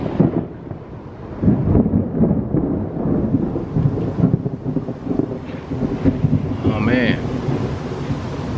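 Rolling thunder rumbles low and steady during a lightning storm just before rain, with wind buffeting the microphone; a brief chirp rises near the end.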